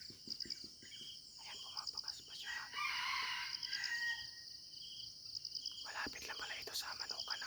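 A red junglefowl rooster crows near a chicken coop in the Philippines: one drawn-out, fairly close crow over faint outdoor background with soft, quiet voices.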